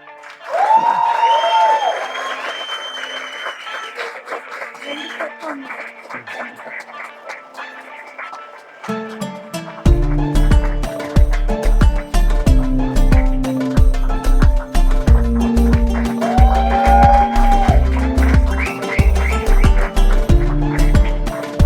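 A crowd applauds continuously while sharp whistles rise above the clapping, joined later by a louder thumping rhythmic backdrop.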